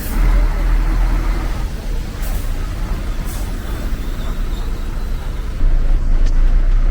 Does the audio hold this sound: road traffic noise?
yes